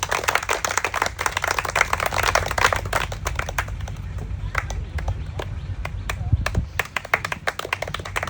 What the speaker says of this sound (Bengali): প্রথম কলা গাছ শেষ করেছে সবাই একটা জোরে তালি হবে